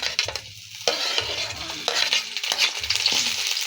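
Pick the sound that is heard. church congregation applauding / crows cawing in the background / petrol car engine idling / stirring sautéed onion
stirring sautéed onion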